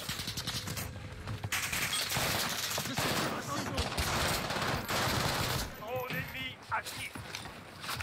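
Gunfire in the video game Warzone Resurgence, dense overlapping automatic fire and shots crackling continuously through the mix, with someone talking over the action.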